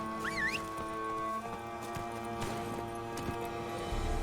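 Horse hooves clip-clop at an easy pace in The Witcher 3: Blood and Wine, fairly faint beneath steady game music and ambience.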